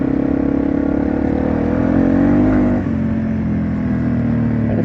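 A Yamaha TW200 motorcycle engine runs steadily and loudly up close, a low, even drone that swells slightly, then drops a little in level and holds on with no talking.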